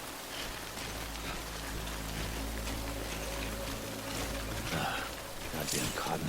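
Steady rain pours down in the Death Stranding video game, a dense even hiss with a low rumble beneath, while a voice speaks over it.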